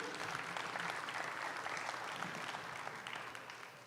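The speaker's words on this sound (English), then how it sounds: "give these exhibitors a round of applause" A crowd at a 4-H dairy heifer show at a state fair gives sustained, even applause that carries on for several seconds at moderate distance and fades slightly toward the end.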